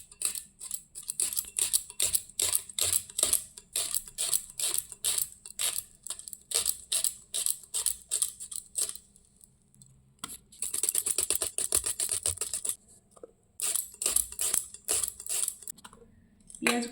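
Washed onions being chopped finely with a knife for chicken biryani: quick, steady strikes on a board in rhythmic runs, broken by short pauses, then faster bursts near the end, close and clear with no talking.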